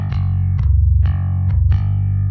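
Very low, heavily distorted bass notes from the L.E.A.D. low-tuned bass instrument playing its sustain articulation, four gritty chugging hits in a row, loud and alone.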